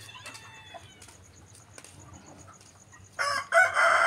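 Chickens and a rooster at a two-story chicken house, soft scattered clucks and a distant crow early on, then a loud burst of squawking and flapping near the end, fairly close.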